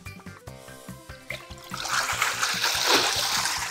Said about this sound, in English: All the water just came out.